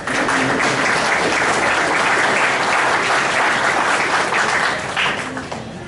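Sustained applause from a large audience at a legal conference on the new criminal procedure code, steady clapping filling the hall for several seconds before tapering off near the end.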